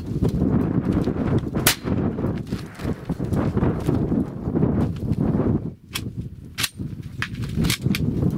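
A Rheinmetall Volkssturm carbine firing 7.92 Kurz rounds in live fire, with loud, sharp shots spaced irregularly over a dense, rumbling background of outdoor noise and clatter.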